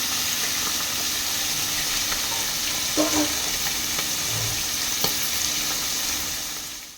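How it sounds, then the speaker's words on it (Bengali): Hilsa fish heads and pieces frying in hot oil, a constant loud sizzling hiss with a couple of brief utensil knocks and stirring scrapes partway through, no voices. "এরকম করে এগুলো লাল লাল করে ভেজে দেবো"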